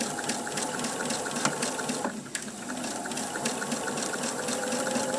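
A sewing machine stitches two fabric pieces for a bottle shape, its needle running in a fast, steady rhythmic whir close up, with a brief pause in the middle.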